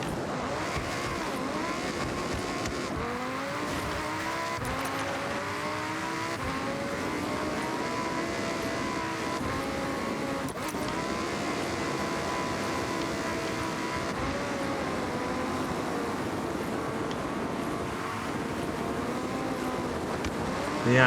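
Lamborghini Huracan Sterrato on all-terrain tyres in Forza Horizon 6, its engine loud and continuous throughout, pitch sweeping up and down as it revs through gears, with no talking.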